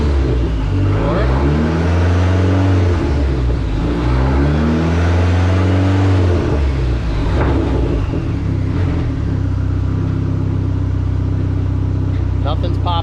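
A rusty Nissan SR-based car engine revs loudly while shifting through first, second and third gears, the pitch climbing and dropping with each shift, then settling into a steady lower drone.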